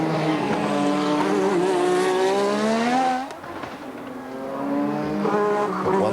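Formula One car on a qualifying lap at the 1986 Australian Grand Prix, a loud high-pitched engine whine rising through the gears, dropping briefly on a shift or lift, then climbing again.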